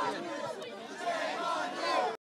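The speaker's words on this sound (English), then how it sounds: "he's having an entire crowd chanting, "Shame on you."" A protest crowd at an anti-Islamophobia rally chants together, a dense wash of many voices in steady rhythm, loud and close throughout before cutting off abruptly.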